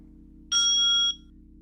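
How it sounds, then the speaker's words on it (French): A single bright hand bell ding rings out clearly, its tone lingering briefly over a low, steady background hum. "Super ta cloche, Anne-Cécile."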